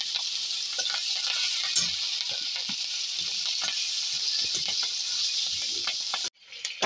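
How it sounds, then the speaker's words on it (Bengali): Four chopped green chillies frying in an ajwain and hing tempering, a continuous close sizzle with light stirring scrapes that cuts off abruptly near the end, no voices. "এবার কুচনো 4টে কাঁচা লঙ্কা কুচিয়ে দিয়ে দিলাম।"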